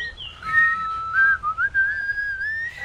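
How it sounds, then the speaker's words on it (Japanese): A clear, close melodic whistle from the horror video game Dread Out wavers up and down in pitch, loud and alone, with a few brief breaks partway through. "口笛吹いてるわ"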